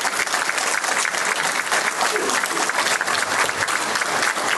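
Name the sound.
audience applause at a tyre expo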